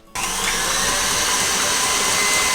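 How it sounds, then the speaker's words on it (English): A stand mixer with a whisk attachment beats Swiss meringue toward glossy stiff peaks: after a brief quiet moment, a loud, steady motor whir starts abruptly and runs on without pause, close by and with no talking. "This is going to go onto the stand mixer with a whisk attachment until a nice glossy meringue has formed"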